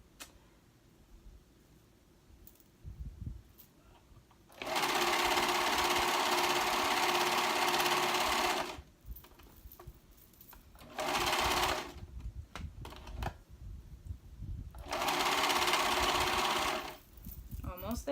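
A sewing machine stitches a reversible dress in three long steady runs of fast whirring, separated by quieter pauses with handling noise.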